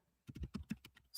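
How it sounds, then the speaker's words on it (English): Quick bursts of typing on a computer keyboard, close and crisp, about eight rapid keystrokes in an uneven run with no talking. "I have another keyboard. I don't know why I'm using this one."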